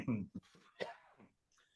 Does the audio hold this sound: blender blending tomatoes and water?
no